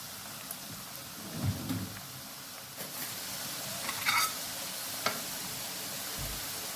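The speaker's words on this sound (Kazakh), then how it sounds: "Осы майды қыздырып қойдым, енді майға қуырып аламыз." Potatoes crackle and sizzle in hot oil inside a kazan, giving a quiet, steady frying hiss broken by a few soft bumps and stirring knocks.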